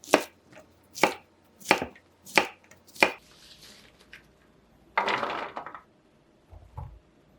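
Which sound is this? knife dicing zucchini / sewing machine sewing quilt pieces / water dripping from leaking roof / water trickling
knife dicing zucchini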